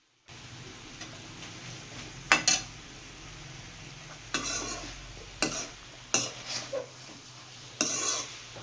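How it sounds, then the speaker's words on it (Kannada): A spoon scrapes and clinks against a pan as chopped tomato is stirred into Guntur chicken frying in it, several sharp strokes spaced apart over a low steady sizzle, with no talking. "ಇವಾಗ ನಾನು ಇದಕ್ಕೆ ಒಂದು ಟೊಮೊಟೊನ ಕಟ್ ಮಾಡಿ ಹಾಕ್ಕೊಳ್ತಾ ಇದ್ದೀನಿ"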